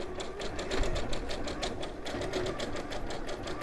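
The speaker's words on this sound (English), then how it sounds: "I'm just swapping that across to a zigzag stitch" A sewing machine runs a zigzag stitch on a sewn animal head, its needle pulsing in a fast, steady, close rhythm throughout with no speech.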